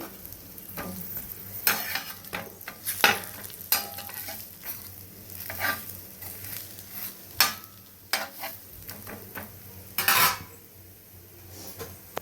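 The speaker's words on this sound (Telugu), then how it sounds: "2 సైడ్లు ఆయిల్ వేసి 2 సైడ్లు బాగా కాలేలాగా కాల్చాలండి." Ragi dosa frying in oil on a pan, a steady low sizzle broken by repeated clinks and scrapes of a spatula or spoon against the pan, close and alone with no talk.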